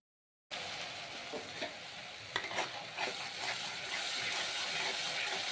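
Pointed gourd and potato pieces stir-fried in a hot pan, a steady close sizzle with scraping spatula stirs and a few sharper clatters, growing slightly louder toward the end.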